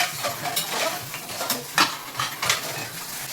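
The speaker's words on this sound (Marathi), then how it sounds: "आता भांडी पण घासून घेते पटकन." Dishes and pans clink and scrape close by in quick irregular knocks, as if being scrubbed and stacked in a sink.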